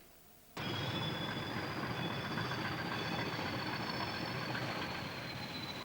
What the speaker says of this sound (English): the empty hopper train proceeds up to Smithywood.